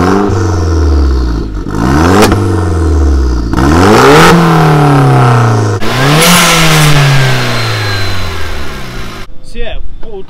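Modified Vauxhall VXR engine with a 3-piece Remus exhaust and pre-cat delete, revving repeatedly in loud throaty rising sweeps, each blip dropping back toward idle, heard up close with a brief crackle at the end.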